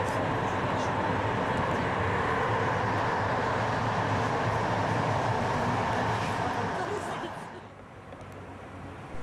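Passenger train running from Bydgoszcz to Poznań, heard as a steady, loud broadband rumble and rattle from on board that carries on unbroken before dropping away sharply near the end.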